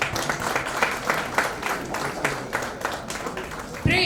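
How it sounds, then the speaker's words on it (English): Conference hall audience at a state-level CA students conference claps in welcome for the dignitaries, a fairly loud, uneven round of applause with voices mixed in underneath. "Let's give a round of applause as a note of welcoming to each of them"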